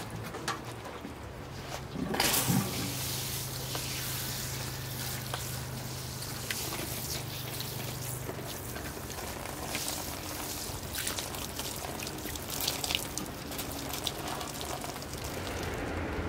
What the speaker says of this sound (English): I'll give that a final rinse with the watering can.